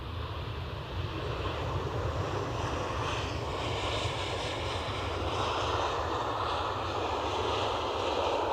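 A Boeing Dreamliner at Edinburgh Airport gives a steady, loud broadband jet roar that holds evenly throughout, with a low rumble beneath a wide hiss and no voices.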